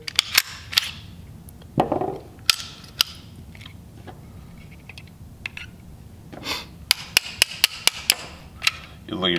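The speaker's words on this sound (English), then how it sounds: "Clear the gun, tear it down, and get going on this." Metallic clicks and snaps from clearing and field-stripping a Springfield XD-M pistol, a few sharp close taps scattered between quieter handling noises, with a cluster of crisp clicks near the end.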